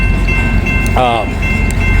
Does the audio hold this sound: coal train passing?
yes